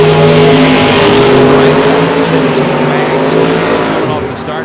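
A 1965 Chevy II and a second car launching in a bracket drag race, with loud, sustained engine roar that stays strong and then tapers slightly as they pull away. An announcer speaks over the noise.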